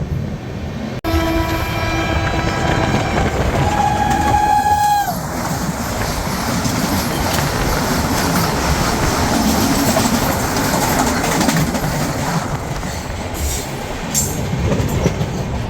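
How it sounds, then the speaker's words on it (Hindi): The Khajuraho Vande Bharat express train opens with a loud horn blast, then rushes past with a continuous heavy rumble and clatter of wheels on rails that stays loud throughout. "ये निकली खजुराहो वंदे भारत।"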